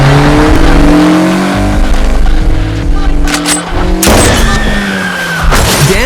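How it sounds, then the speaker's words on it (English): Car speeding away with tires squealing in a thriller movie scene: a loud, close engine roars and revs under screeching rubber, with a sharp bang partway through. "Dan and Lisa speed away"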